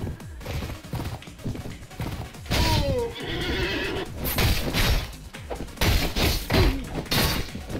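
Horse neighing in the medieval combat game Mount and Blade Warband, several whinnies rising over clattering hooves, battle thuds and crashes in a busy, loud mix.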